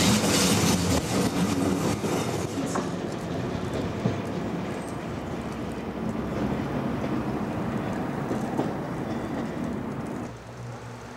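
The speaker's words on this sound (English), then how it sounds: "Today's trains are made up of class 304 and 305 electrical multiple units." Old class 304 and 305 electric multiple units built in 1960 rolling through the Peak District, a continuous rumbling roar with rattling and wind noise, steady throughout and close.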